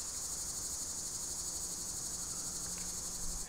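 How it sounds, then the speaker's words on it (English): Steady, dense insect chirping fills the air, a continuous high shimmer of crickets outdoors with no voices, constant and moderately loud throughout. "it is really hard to edit audio outside where there's crickets,"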